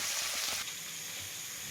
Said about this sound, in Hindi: गरम गरम तेल चिंगुड़ी भजा